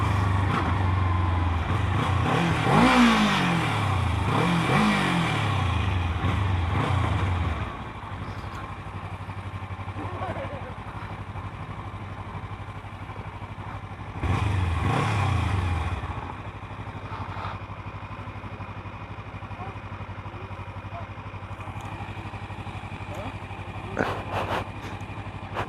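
A 2015 Kawasaki Ninja 300 motorcycle is ridden, its engine revving up and down through rising and falling sweeps, then settling to a steady drone with another rev surge midway, close and loud.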